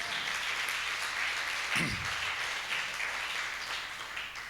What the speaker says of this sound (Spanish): ¿Cuántos le dan un aplauso al Señor por esto?